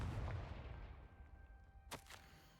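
A Confringo fire spell blast in a video game: two sharp, loud bursts close together near the end, over a low, steady rumble.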